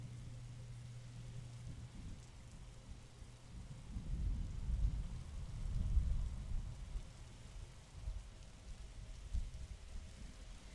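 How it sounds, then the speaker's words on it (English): Steady rain falls in the video game Evie, with low rumbling thunder swelling in the middle, and no one speaking. "Look, we can still hear the rain."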